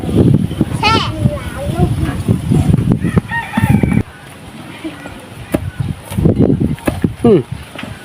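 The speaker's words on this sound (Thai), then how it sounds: "ไก่ไก่" Rooster crowing and chickens clucking in a Bru village yard, the calls rising briefly through steady nearby chatter, with a voice among the speakers.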